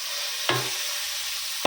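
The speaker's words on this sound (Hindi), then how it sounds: "अभी इसमें टमाटर डालेंगे।" Tomatoes added to onions and curry leaves frying in a pan: a steady bright sizzle broken by two short scraping stirs of a spoon, close and alone.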